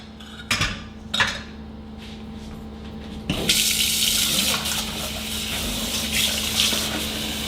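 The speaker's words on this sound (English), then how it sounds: "Give this a rinse so it's easy to wash later." Tap water runs into a sink to rinse a lasagna dish, a couple of clinks of the dish first, then a steady close rush of water for the remaining several seconds.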